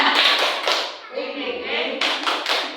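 A group, likely including children, claps and pats their chests in a rhythmic tepuk semangat chant in a classroom setting, sharp clustered claps under chanting voices, close and fairly loud.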